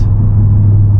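A 2025 Audi RS3 facelift with a 400 hp engine and seven-speed S tronic gearbox, pulling hard in fifth gear: a loud, steady low engine drone heard from inside the car for about a second, with no talk.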